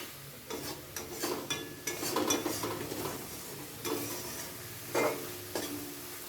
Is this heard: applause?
no